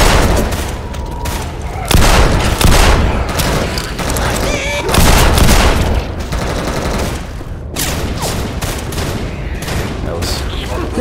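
Rapid gunfire and explosive booms from the CS_Office map of Counter-Strike, a zombie mode round, with loud bursts of rifle fire and impacts layered over game voice callouts for reloading and ammo.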